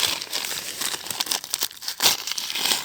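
Paper is crinkled and crumpled close up, apparently as mangoes from the tree are wrapped for ripening, a loud continuous rustling and crackling with brief tearing sounds throughout.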